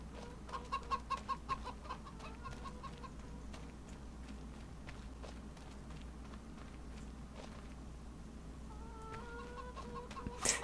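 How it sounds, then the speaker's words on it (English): A few soft chicken clucks in Farming Simulator 25 in a quick run near the start, then quieter scattered clucks and pecking sounds over a low steady hum. "We've already got chickens in place,"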